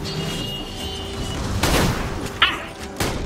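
Gunfire in the shooter video game Borderlands The Pre-Sequel during a raid boss battle: a few sharp, loud bursts of shots and blasts over dense, noisy game sound, with no clear talk.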